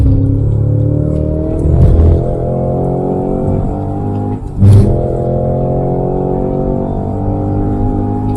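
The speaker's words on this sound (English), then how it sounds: "they're actually using real exhaust sounds" A Cadillac CT5-V Blackwing's 668-horsepower V8 revs loudly with a deep, throaty exhaust rumble, rising and settling in a few bursts close by.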